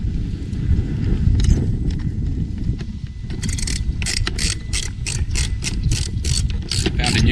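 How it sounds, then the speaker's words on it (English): A ratchet tightening screws on a Sea-Doo Fish Pro gives rapid bursts of clicking, repeated several times over a constant low outdoor rumble. "you're just going to flick that ratchet around to tighten them up"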